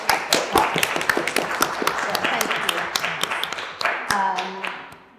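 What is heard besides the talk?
audience applauding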